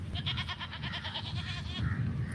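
Several goats bleat together on a farm near feeding time, in a continuous wavering chorus of calls over low rumbling background noise, moderately close.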